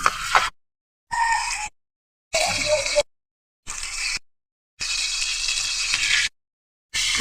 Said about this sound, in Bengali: তেল গরম হয়ে গেছে, এখন দিয়ে দিলাম মাছ।